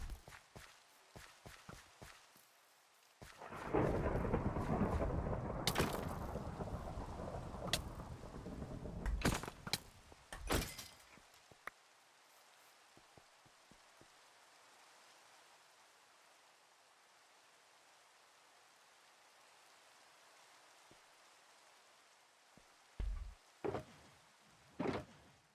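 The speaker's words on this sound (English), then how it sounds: "Yeah, absolutely a thunderstorm." A thunderstorm with rain in Minecraft: a loud, rumbling crack of thunder rolls through for several seconds, then a faint steady rain hiss continues alone, broken by scattered clicks and footstep-like taps.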